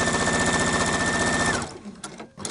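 A sewing machine stitches a shirt of Liberty fabric in a steady, rapid, loud run that stops abruptly partway through, leaving brief faint handling noises.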